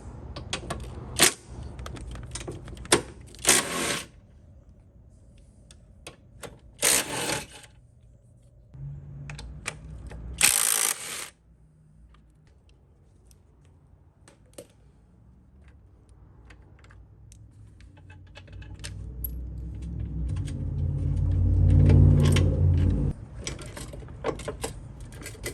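A ratchet wrench works on the 15 mm and 19 mm engine mount bolts of a 2016 Ford Focus, with several bursts of rapid clicking and metallic clanks separated by pauses, followed by a building low rumble.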